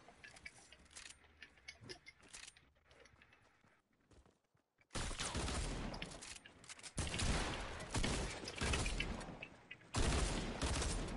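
Gunfire in a shooter video game, bursts of rapid shots over mechanical clicking and clatter, loud and continuous after a quieter opening, with no talk.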